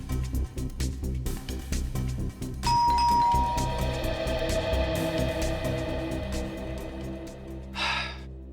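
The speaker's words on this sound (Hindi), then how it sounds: "आप एक बार और घंटी बजाने का कष्ट करेंगे?" A household doorbell rings at a house door, a loud sustained electronic chime that decays slowly, followed by a brief second burst near the end, with a quieter low background before it.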